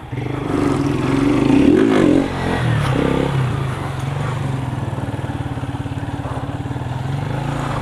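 A motorcycle held up on one wheel in a sustained wheelie on a sloping street, its engine droning loud and close with a rising rev near the start, then a steady buzzing tone under faint voices.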